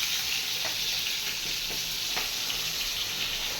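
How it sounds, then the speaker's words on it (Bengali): Meat sizzles steadily in a pan of hot oil, a constant close crackling hiss with a few faint scrapes of stirring and no talking. "এখানে বেশি কড়া করে ভাজবো না, নাহলে মাংসগুলো না শক্ত হয়ে যায়"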